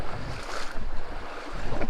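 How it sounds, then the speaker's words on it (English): River rushing through a narrow walled canyon in Zion National Park, a close, steady turbulent wash of flowing water mixed with gusty wind buffeting the microphone, no talking. "The river going, you know,"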